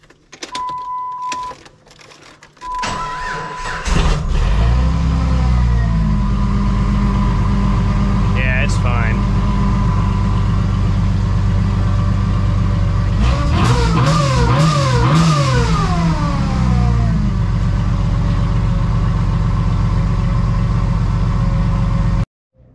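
A Jeep engine with a JTEC controller cranks briefly and catches, then settles into a steady, loud idle with a revving rise midway, close up and running alone to the end.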